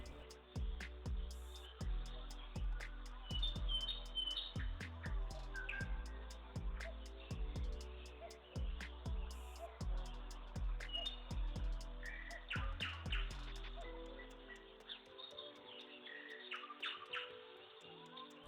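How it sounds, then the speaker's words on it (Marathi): Birds chirp and tweet outdoors in a natural setting, light scattered calls over a steady, rhythmic low pulse of music that drops away near the end. "पक्ष्यांचा किलबिलाट"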